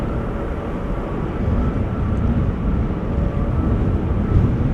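An Airbus A350 of Delta Airlines arriving at Amsterdam Schiphol in breezy post-storm weather, a steady broadband jet roar that swells slightly and holds throughout, with wind buffeting and no voices.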